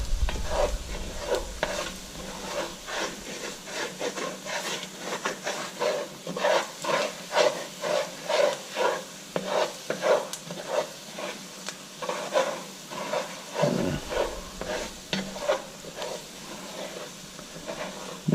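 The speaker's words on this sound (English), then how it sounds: "Just keep it moving and keep scraping the bottom of that pot." Venison sauce picante being stirred in a pot, a spoon scraping the bottom in a steady rhythm of repeated strokes over a constant background sizzle, close and moderately loud, with no talking.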